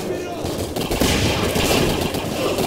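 Gunfire rattles in the video game Singularity, a dense, rapid burst of shots close up throughout, with a voice talking over it.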